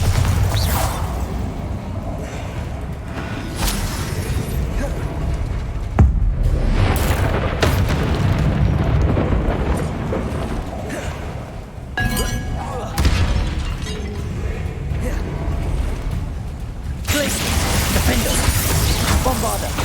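Bombarda exploding spell in Hogwarts Legacy combat: a run of loud blasts and shattering cracks with heavy rumbling between them, cast amid other spells such as Confringo and Glacius, with a voice calling out spell names throughout.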